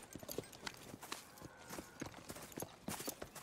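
Rhythmic clip-clop of horse hooves at a steady walking pace, fairly close, with a brief whinny-like sound mixed in, from Red Dead Redemption 2.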